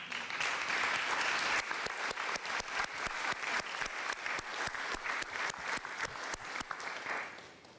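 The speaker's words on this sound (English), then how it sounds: "I think they deserve an applause." Conference audience at a panel on gender and access to rights gives a sustained round of applause, a steady roomful of clapping that breaks into sharper individual claps before fading out.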